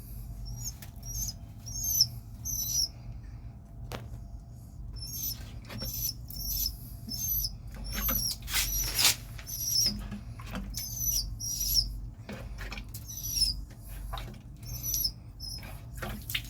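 A distressed bird weakened by heat in Kuwait gives repeated high, thin chirps in short bursts, close and fairly faint, with scuffling, taps and a low steady hum behind, and no talking.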